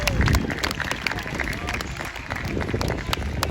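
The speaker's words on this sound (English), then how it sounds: "Give the marshals and their knights a round of applause and their horses a round of applause" A crowd at a jousting show at Hampton Court Palace applauds the marshals, knights and horses, scattered clapping over a background of hubbub and talk.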